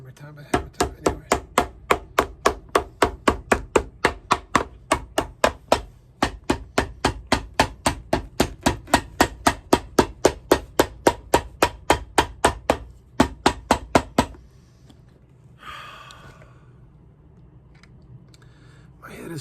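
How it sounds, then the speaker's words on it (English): Rapid, steady hammer blows on a shoe sole during Ferragamo shoe restoration, dozens of sharp strikes in quick rhythm, close by, then they stop and a quiet pause follows. "Hammer time."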